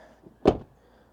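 The door of a Mazda CX-5 shuts with a single solid, muffled thump close by after a faint lighter click, then quiet.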